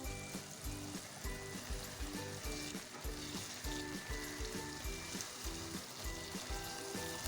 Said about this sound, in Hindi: यहाँ पे देखिए मसाला जो है वो अच्छे से भुन चुका है